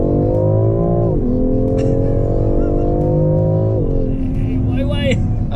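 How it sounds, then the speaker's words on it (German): A car engine heard loud from inside the cabin during a driving lesson climbs steadily in pitch as it accelerates, drops with each gear change and pulls again with a sporty, revving drone. "Fährt wie ein Sportwagen."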